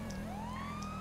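A police car siren in the game GTA 5 wails steadily with a rising tone over constant low engine and traffic rumble, loud and continuous through the short moment.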